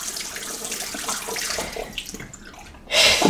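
Water runs steadily from a tap to wet a multi-blade razor before shaving, a continuous close splashing that surges louder just before the end.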